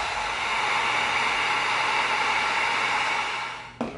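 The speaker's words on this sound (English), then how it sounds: "now let's tighten that up with some heat." A heat gun blows hot air over EVA foam in a steady, loud, close whooshing hiss that fades at the end as it is switched off, with a small knock just after.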